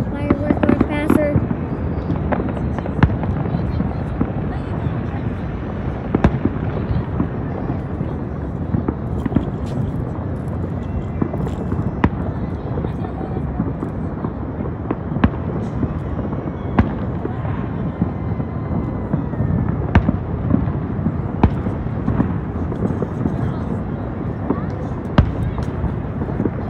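Dense, continuous crackling and popping bursts of New Year fireworks in San Antonio, Texas throughout, with no pause, fairly loud and busy, like a sustained barrage of small explosions.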